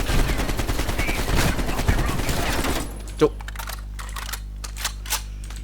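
Dense, rapid automatic gunfire in Call of Duty Black Ops Cold War rattles loud and close for about three seconds, then cuts off, leaving a low hum and a few scattered shots and clicks.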